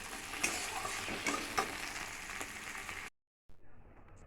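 Onions and tomatoes sizzle and crackle in hot oil in a pan, with sharp spoon taps and stirring strokes over the fry, before the sound cuts briefly to near silence and resumes softly.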